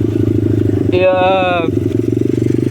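A SkyTeam 49 cc engine on a Dax motorbike idles with a steady, loud low chugging throb, while someone speaks over it in a brief burst.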